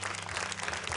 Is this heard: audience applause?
yes